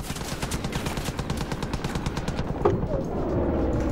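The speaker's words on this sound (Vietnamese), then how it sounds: "Mình thử coi cây súng này bắn được máy bay không?" Rapid automatic gunfire aimed at an aircraft in the Far Cry 5 video game, a dense steady burst of shots that stops near the end and leaves quieter game background.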